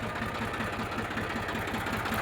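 A used Massey Ferguson 7250 farm tractor idles with a steady, rhythmic diesel chug, close and even, its low pulsing beat repeating without change and no voices over it.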